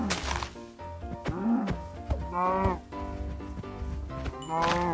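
Cows in the Minecraft video game moo repeatedly in short, drawn-out calls, loud and close, interspersed with thumping hits as the animals are attacked.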